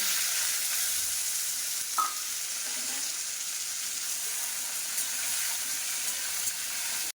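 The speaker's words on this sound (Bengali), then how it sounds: "বেগুন আলুগুলো হালকা করে একটুখানি ভেজে নেব" Eggplant and potato pieces fry gently in hot oil with nigella seeds, a continuous close hiss and crackle with a brief stir or clink partway through.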